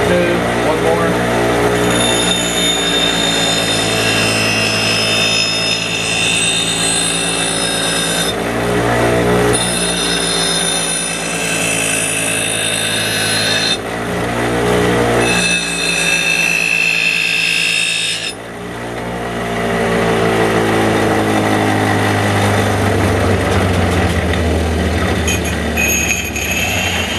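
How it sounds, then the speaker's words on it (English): A power grinder works the secondary cutting edge of a large post-apocalyptic survival knife, a loud sustained whining grind with shifting tonal pitch, broken by brief pauses between passes, and a voice speaks over it at times. "I did 3 passes on the secondary cutting edge grind"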